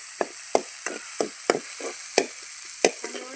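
Tomato being sautéed in a pan for South Indian puli kulambu, about ten separate scraping stir strokes at an even rhythm over a faint sizzle, close by, with no talking.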